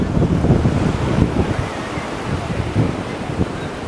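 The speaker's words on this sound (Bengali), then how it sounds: "এটা ঢেউয়ের কোনো জবাব নাই" Continuous roar of sea waves breaking nearby on the beach at Cox's Bazar, mixed with gusty wind buffeting the microphone.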